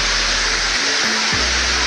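The second falls of a waterfall roars in a steady, loud broadband rush, heard up close and unbroken, with a brief low rumble shifting partway through.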